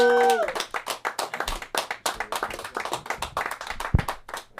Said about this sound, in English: y'all clap it up and make some noise for Junior Marlino